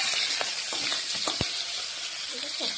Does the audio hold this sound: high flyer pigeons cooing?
no